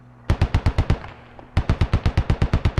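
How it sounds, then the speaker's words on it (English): Rapid automatic gunfire from a Striker in a squad-based shooter video game, fired through walls: two loud bursts of evenly spaced shots with a short gap between them. "Striker shooting through the walls"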